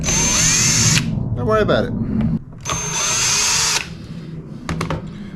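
A handheld electric power tool whirs in two long bursts, backing screws out of a Squier Jazzmaster guitar, with clicks and handling noise between the bursts; someone speaks briefly.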